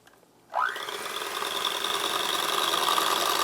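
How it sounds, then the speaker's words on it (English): An electric hand mixer whisks an olive oil emulsion. After a brief quiet start, its motor spins up and holds a steady, fairly loud whir with a rising whine, and no one speaks. "Now I'm using a hand mixer."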